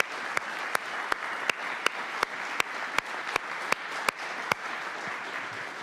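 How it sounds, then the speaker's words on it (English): Audience applause for city employees at a Durham City Council meeting: steady, moderately distant clapping fills the room, with sharp periodic clicks punctuating it. "please join me in one more rousing applause to all of our outstanding city employees"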